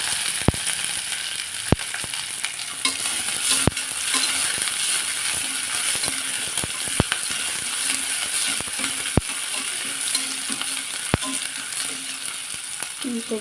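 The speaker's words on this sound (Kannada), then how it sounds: "ಈಗ ಇದಕ್ಕೆ ಈರುಳ್ಳಿ ಹಾಕ್ತಾಯಿದ್ದೀನಿ. ಚೆನ್ನಾಗಿ ಫ್ರೈ ಮಾಡ್ಕೋಬೇಕು." Chopped onions sizzle steadily in hot oil with mustard seeds, a dense continuous frying hiss broken by sharp clicks and pops of spattering seeds and a utensil tapping the pan.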